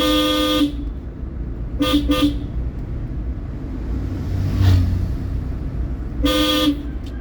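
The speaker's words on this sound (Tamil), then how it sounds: "ஹார்ன் அடிங்க." Car horn honks loudly several times during a driving lesson: one long blast, a quick double beep, then another long blast, over a low road rumble.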